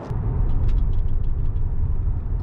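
A rumbling BMW 5 Series with a run of quick, light knocking taps from faulty brakes over a low engine drone, close by.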